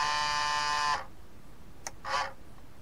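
A small electric motor in a large Airfix Junkers Ju 87 Stuka model plane whirs with a loud buzzing hum for about a second, then cuts off, followed by a brief click and one short buzzing burst.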